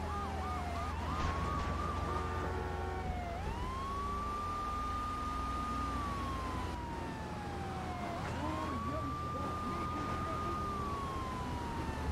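A wailing police siren from GTA 3 Remastered rises and falls repeatedly over a steady engine hum, fairly distant and synthetic-sounding, with no talking.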